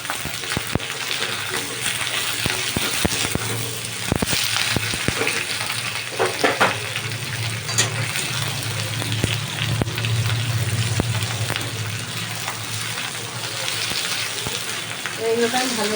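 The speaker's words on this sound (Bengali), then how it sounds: "এইগুলোকে আমি ভালো করে ভাজবো।" Chopped capsicum and green chilli fry in a pan for a chilli potato dish, a steady loud sizzle with occasional stirring scrapes throughout, close up.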